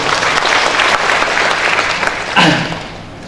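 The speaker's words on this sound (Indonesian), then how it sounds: "Tepuk tangan yang untuk Anda semua" A seminar audience claps together for a motivational talk, broad continuous applause that stays loud, then a short louder swell with a voice-like tone near the end as it fades.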